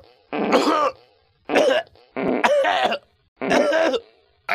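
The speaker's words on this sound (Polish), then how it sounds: "Ale mnie kaszel złapał." Someone coughs in four harsh, close bursts separated by brief pauses, each a rough hacking fit.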